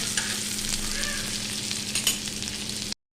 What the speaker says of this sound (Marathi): मी चार छोटे मिडियम साईजचे कांदे घेतलेले आहेत बा आणि ते उभे चिरून भाजून घेते